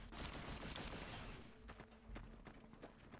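Rapid bursts of gunfire in the video game Fallout: New California, dense and continuous at first, then thinning into separate sharp shots against a low rumble, with no talking.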